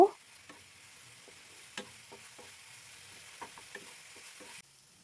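Onion paste and garlic paste fry in oil for a small prawn dish, giving a soft, steady sizzle with sparse light ticks from a spatula stirring the pan, faint and close.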